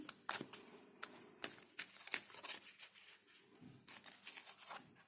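Tarot cards are shuffled in quick bursts of riffling and flicking, close by, with short pauses between the bursts.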